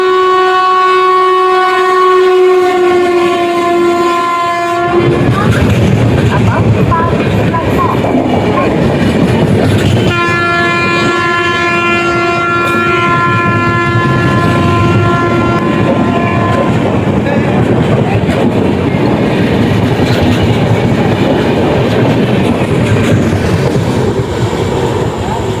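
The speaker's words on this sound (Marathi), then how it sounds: "आता मगाशी ट्रेन गेली ती, जे स्किप दाखवलं तुम्हाला, ती होती विशाखापट्टणम LTT एक्सप्रेस" The Visakhapatnam LTT Express passes through Kurduvadi station with a long horn blast, then a loud, close roar and clatter of wagons, broken by a second sustained horn before the rumble carries on.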